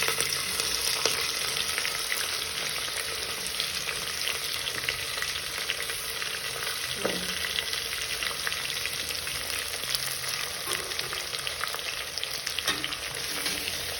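Onion, chilli and ginger-garlic paste fry in a pan with whole spices while making veg biryani, giving a steady close sizzle and crackle with occasional stirring clinks, no talk.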